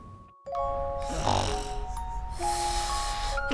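A voice mimics a person snoring, one drawn-out rasping snore in the middle, close and fairly loud, set against a bright ringing chime-like background tone.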